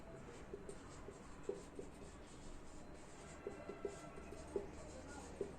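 Pen or chalk writing on paper or a board for a linear equations maths lesson, with faint scratchy strokes and a few sharper taps spread irregularly, quiet overall with low background hum.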